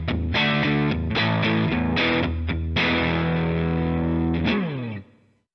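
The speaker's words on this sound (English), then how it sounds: "Second one is the crunch without the modulation block, so amp, cabinet, and reverb only." Crunchy electric guitar through a Line 6 POD Go running a Matchless DC30 amp preset with cabinet and reverb only, strummed chords in a steady rhythm, loud and close, ringing out and fading at the end.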